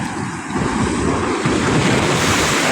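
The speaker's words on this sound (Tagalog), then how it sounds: "Kaya yung hampas ng alon doon oh." Surf crashes continuously against a highway mega dike and floodway at an open stretch of water in Bulacan, a loud, close churning wash mixed with heavy wind buffeting the microphone.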